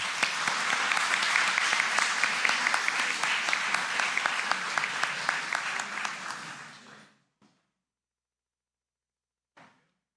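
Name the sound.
audience applause at award ceremony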